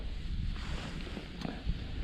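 Steady wind buffeting a microphone outdoors beside a fishing pond, a low continuous rumble with gusty swells and no voices.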